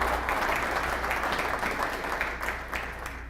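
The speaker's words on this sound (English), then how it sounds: "Let's give all of our advisory committees a round of applause." At a city State of the City presentation, the room applauds in a full, steady burst of clapping, with individual claps standing out here and there and the sound easing slightly near the end.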